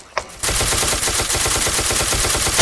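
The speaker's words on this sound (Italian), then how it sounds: "È da mezz'ora che gli sparo." Rapid automatic gunfire in the Ace of Spades video game, a loud, close, unbroken burst of evenly spaced shots that starts after a single quick report.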